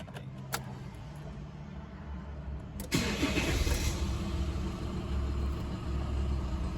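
An LDV T60 ute engine cranks and catches after a quiet cabin pause, then settles into a steady, fairly close mid-pitched rumbling idle that continues to the end.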